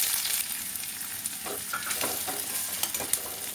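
Chopped onions hit hot oil already fragrant with cloves, giving a continuous close sizzle with a few brief stirring scrapes over the short stretch, no voices.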